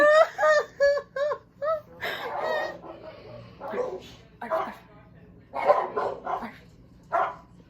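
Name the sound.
dogs barking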